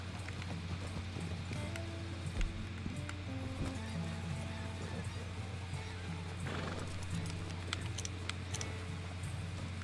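Horses clip-clop along a shore in Red Dead Redemption 2, steady hoof patter with an occasional whinny, set under music and background ambience.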